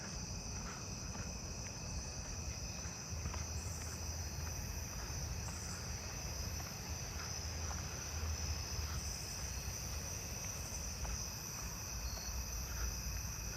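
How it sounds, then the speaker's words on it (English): A round-tipped conehead katydid calls in a neighbourhood at night, a continuous high, buzzy trill holding steady and fairly distant, with other insects singing faintly alongside and no voices. "I still hear this round-tip conehead over here."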